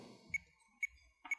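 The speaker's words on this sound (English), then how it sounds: "You can hear the click starting in the background." A Roland SPD-S drum pad's metronome gives soft, evenly spaced clicks at 120 BPM, three faint ticks sounding quietly in the background.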